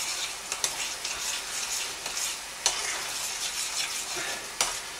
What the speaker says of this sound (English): Stir that in and see what that's like.